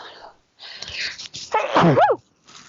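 A single loud sneeze bursts out, close by, with a sharp explosive release and trailing voiced tail, preceded by brief muffled breathing.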